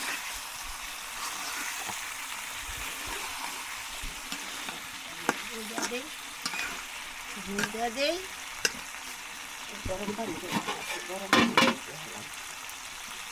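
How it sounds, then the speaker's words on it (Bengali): Duck meat being stirred and fried in a pan outdoors by a lakeside, a steady sizzle running throughout with sharper clatters of the spoon scraping and stirring, louder bursts near the middle and end. "অনেক সময় নিয়ে কষিয়ে মজিয়ে নেওয়া হবে"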